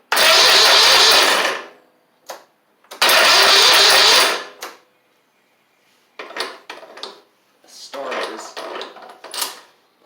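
Starter cranking on a Toro Z2550 zero-turn mower with a seized engine and locked starter: two loud whirring bursts of a couple of seconds each, followed by shorter clunks and rattles.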